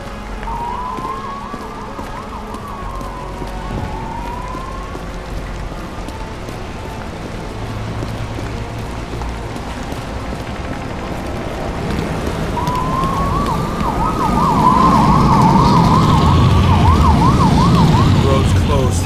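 A police car siren wails in the video game Nobody Wants to Die, its rising and falling tone sweeping over rain and a steady traffic rumble. It fades, then returns louder and closer near the end.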